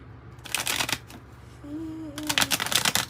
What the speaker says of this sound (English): Give this a good shuffle here.